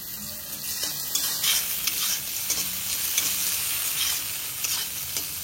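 Prawns sizzling in a pan with turmeric and salt, a steady frying hiss with occasional stirring scrapes, close and moderately loud with no talk over it.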